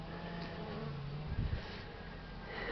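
A dense, steady buzz of many Buckfast honeybees humming together at a hive in February, with a brief low thump in the middle.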